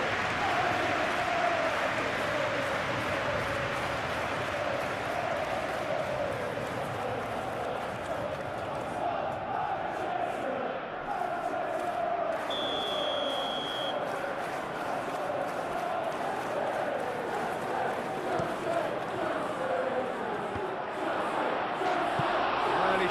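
A stadium crowd in a Chelsea versus Manchester United football video game roars and murmurs as a continuous wash of noise, with a commentator's voice running over it.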